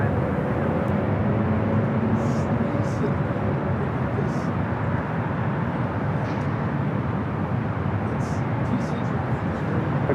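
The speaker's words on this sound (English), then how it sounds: "It's a Dreamliner heading to Tel Aviv." A Boeing Dreamliner airliner at LAX gives off a steady, broad jet engine roar at some distance, with faint radio chatter and talking over it.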